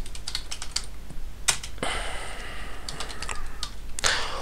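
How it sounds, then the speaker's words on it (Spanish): Code is typed on a computer keyboard in quick, uneven bursts of close clicking keystrokes, with a longer clattering run in the middle and a faint background hiss. "Qué mejor que tecleando un poco de código."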